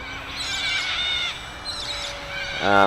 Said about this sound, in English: I've just got a flock of cockatoos